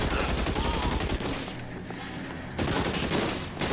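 Tommy gun fire in the L.A. Noire crime game: a loud, rapid automatic burst, a short lull, then another burst of rattling shots up close.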